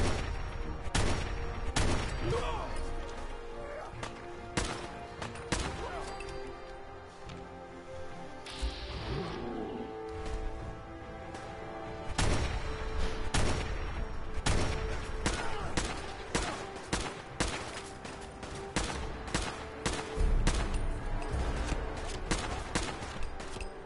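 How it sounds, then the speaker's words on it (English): Sustained gunfire from the video game Fallout 4 crackles in repeated bursts and single shots, with a few heavier booms, steady and fairly loud throughout. "let's see what all the people are shooting at"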